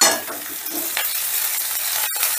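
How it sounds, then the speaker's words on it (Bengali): Chopped onion and three small crushed garlic cloves fry in hot oil, making a steady close sizzle with stirring scrapes and a sharp clink near the end. "এবারে পেঁয়াজ আর রসুনটাকে একটু ভাজা ভাজা করে নেব।"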